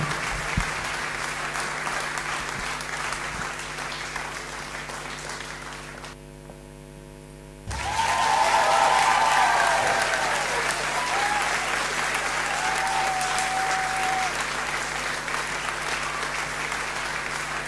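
Clapping from an audience at an award ceremony for a motivational speaker fills the hall, steady and moderately loud, broken by a short lull before it swells again with some cheering tones.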